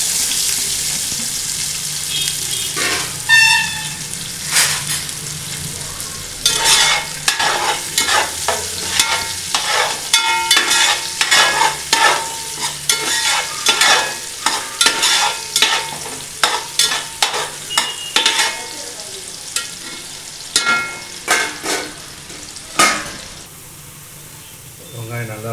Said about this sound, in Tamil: வெங்காயம் நல்லா வறுபட்டுச்சு, கோல்டன் கலர் ஆகிடுச்சு